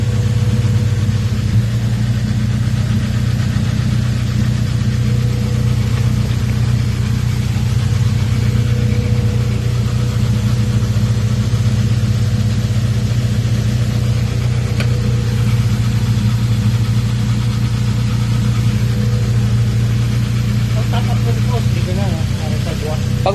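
A Honda Civic's engine idles in a repair shop, a loud, even, low hum held steady and close throughout with no revving.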